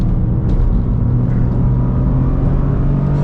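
A 2023 Toyota GR Corolla Morizo driven on the Gingerman Raceway track, held in fourth and fifth gear, with a steady, loud engine drone and rumble running throughout without pause.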